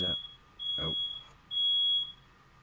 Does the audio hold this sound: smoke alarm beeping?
yes